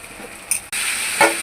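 Tomatoes drop into a hot pan of frying fresh ginger paste and tempering, setting off a sudden loud sizzle with stirring scrapes, close up and with no talking.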